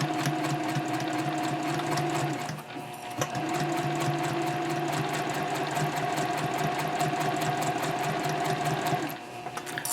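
A sewing machine stitches fabric for a nested baby basket with Peltex and fleece layers, a close, steady motor whir with rapid needle chatter that dips briefly in a couple of spots before resuming.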